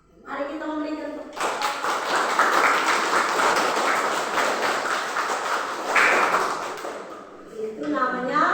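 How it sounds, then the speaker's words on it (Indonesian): A classroom of students applauds during a Catholic religious education lesson, dense clapping rising suddenly and holding for about six seconds, with speech briefly heard before and after it. "Mari kita memberikan tepuk"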